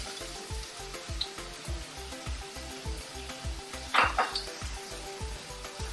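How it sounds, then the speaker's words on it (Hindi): Onions dropped into hot oil in a pan, sizzling loudly and steadily with a burst of hissing about two-thirds through, over a rhythmic low thudding and occasional metal clinks, no talking. "अब इसके अंदर मैं प्याज शामिल कर देती हूँ।"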